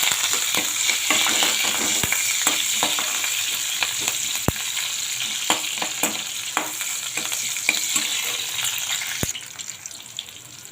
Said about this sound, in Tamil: கருவேப்பிலை, பச்சை மிளகா, வெங்காயம் போட்டு நல்லா வதக்குங்க